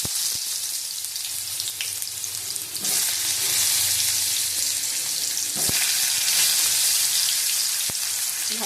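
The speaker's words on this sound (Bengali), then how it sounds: "ভালো করে ভেজে নেবো" Potatoes fry in hot oil with panch phoron and dried red chillies, a dense, steady sizzle that swells louder partway through, with a few sharp utensil clicks against the pan.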